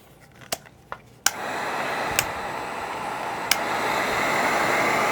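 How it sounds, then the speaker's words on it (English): Heat gun warming plastic parts of a 1987 GI Joe Persuader toy vehicle during restoration: a few light clicks, then a steady close airflow roar switches on and continues with faint taps. "I'm going to go ahead and get my heat gun."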